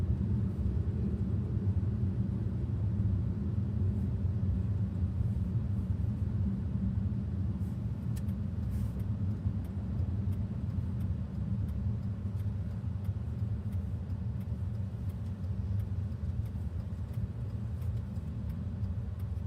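A car drives slowly through a parking lot, giving a steady, close, low engine rumble and road drone that holds even for the whole stretch, with no talking.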